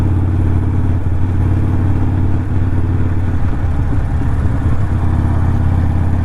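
Harley-Davidson motorcycle with a Screamin' Eagle Pro Tuner stage 1 setup, ridden in the higher gears, a steady loud, close engine drone with constant low rumble and no pauses.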